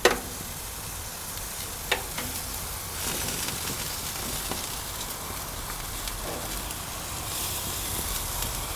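Boneless chicken thighs sizzling on a Monument Grills Mesa 415BZ gas grill: a steady, bright hiss of frying fat with a few soft clicks and taps, continuous and fairly close.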